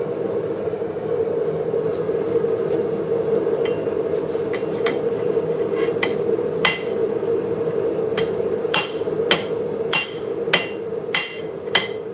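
Steel being hammered at a forge, sharp metallic strikes ringing out sparsely at first and then in a quicker regular run, over a steady background hum.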